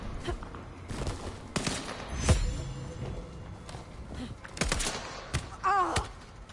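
Gunfire in Vampire: The Masquerade - Bloodlines 2, a handful of sharp shots scattered irregularly over a busy game backdrop with footsteps and thuds, moderately loud.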